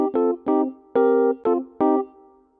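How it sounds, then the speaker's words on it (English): Classic electric piano software instrument in GarageBand playing five separate clean chords, each struck clearly with a bell-like attack and short decay, close and alone with no talking. "by default, we have this classic electric piano loaded in"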